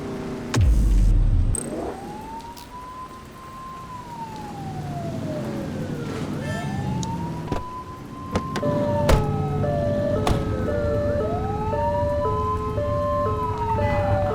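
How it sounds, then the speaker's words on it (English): A police car siren in a video game wails in long rising and falling sweeps, then switches to a faster yelping pattern, over steady car engine noise. "You're only meant to use the siren in emergencies."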